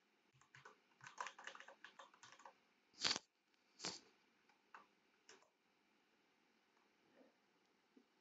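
Computer keyboard keys tapped while writing code in an IDE, a scattered run of quiet close clicks with two louder key strikes, then sparse taps fading out, no voices.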